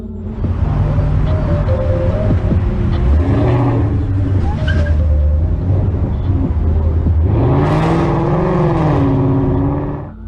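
A Mustang fleeing police roars and revs hard through repeated surges, its engine pitch climbing and dipping in loud, close bursts with a brief tire squeal, and faint voices underneath.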